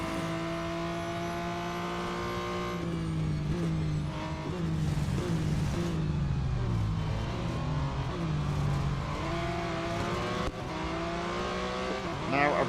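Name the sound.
race car engine accelerating in Real Racing 3 video game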